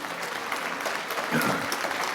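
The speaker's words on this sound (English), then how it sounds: "let's give him another round of applause" A lecture audience gives another round of applause after a talk, with soft, fairly distant clapping that stays even and modest throughout.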